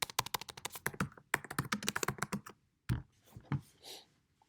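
Quick bursts of close computer keyboard typing, a run of rapid key taps, a short pause, then a few scattered final keystrokes fading out.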